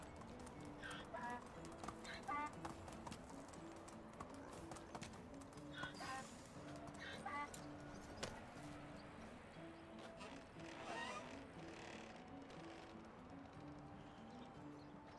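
A ridden horse in Medieval Dynasty clip-clops along at a steady walking rhythm, its hoofbeats soft and fairly close beneath a quiet outdoor bed with occasional bird calls.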